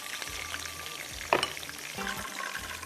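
Chicken pieces fry in oil for black pepper chicken, making a steady moderate sizzle with one sharp clatter from a utensil partway through.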